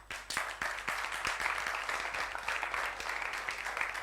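A conference audience applauds steadily in a hall, dense clapping at moderate level with a few sharper individual claps standing out, continuing without talk.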